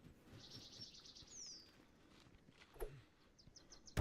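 A bird in the video game The Forest gives soft, high chirps in quick runs with a short downward whistle, faint over a low rustling ambience, followed by a dull thump and a closing burst.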